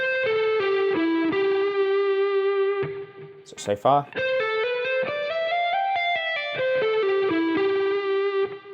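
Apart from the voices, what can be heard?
electric guitar hybrid picking lick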